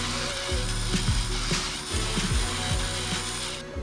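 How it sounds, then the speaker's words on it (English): A power drill bores out slotted bolts on a Sportster motorcycle, its motor whining steadily while the bit chatters in repeated grinding bursts, close and loud with no talk. "I'm going to try to drill them out."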